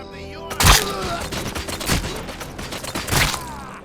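A Desert Eagle hand cannon fires in the Robocop Rogue City video game: three heavy, booming shots spaced about a second apart, each with a sharp crack and a ringing tail, set against game music and mechanical clatter.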